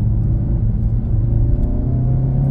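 Honda Civic Type R FK8 driving on a road, a steady loud engine drone and road rumble from inside the car, continuous and even with no talking.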